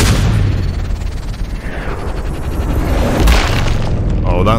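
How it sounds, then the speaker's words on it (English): Loud booming rifle report in Sniper Ghost Warrior Contracts 2, a heavy blast over dense rumbling game noise, with a voice briefly heard near the end. "Oh, that's the money shot right there."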